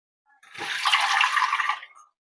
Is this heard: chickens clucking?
no